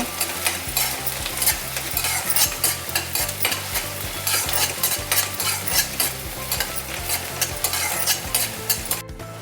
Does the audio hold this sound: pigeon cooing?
no